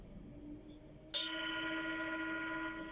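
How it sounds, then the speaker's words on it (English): A single soft finger tap on a singing bowl starts a bright, sustained ringing tone that hangs steadily, faint and without voices. "So the sound of the singing bowl may not sound perfect for you"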